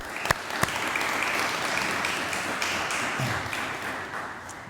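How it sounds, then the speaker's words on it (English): Audience applause after honorees are named at a state game and fish commission appointment event, a steady mass of clapping at moderate level with a couple of sharp louder claps near the start. "Let's give them a round of applause."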